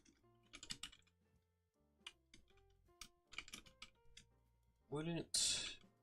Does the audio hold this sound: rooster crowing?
no